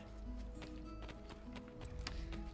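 Rhythmic clip-clop of horse hooves at a steady run in the video game Assassin's Creed 2, fairly quiet, with a low game-like rumble and faint music underneath.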